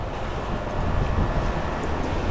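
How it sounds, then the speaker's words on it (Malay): Steady roaring wind buffets the microphone over the rumble and wash of strong waves, loud and continuous throughout. "Ombak kuat angin."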